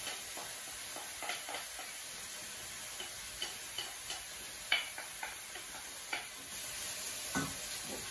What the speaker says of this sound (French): Vous suez tout ça jusqu'à ce que vos légumes soient fondants.